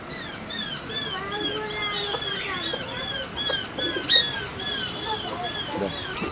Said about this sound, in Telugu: కోడి పావురాలు.